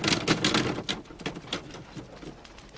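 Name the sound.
Alder typewriter typing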